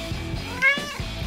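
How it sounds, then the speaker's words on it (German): A kitten gives a single short, high, wavering meow midway through, standing out clearly over faint background noise. "Ich glaube, ich habe ein Kätzchen gehört."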